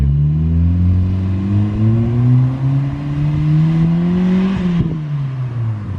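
An engine-swapped Honda Civic DX, making 288 horsepower, pulls hard on the road. Its exhaust tone climbs steadily in pitch for several seconds, then drops abruptly as the throttle lifts.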